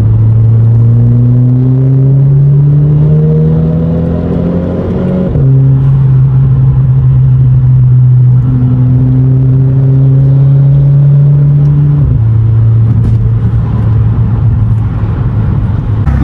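A Renault Clio 4 RS Trophy launching from a standstill and pulling hard, engine revs climbing in two long, loud sweeps with a clear gearshift between them, heard from outside the car.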